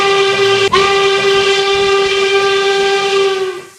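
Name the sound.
American steam locomotive whistle from Union Western, RO-Scale model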